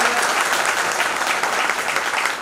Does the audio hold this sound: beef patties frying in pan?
no